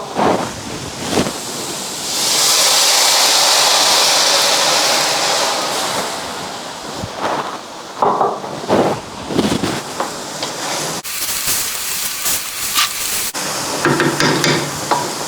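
Plain water poured into a hot pan of sautéing, browning cauliflower bursts into a loud, broad hissing sizzle that swells, then settles into bubbling and stirring scrapes, close up with no talking.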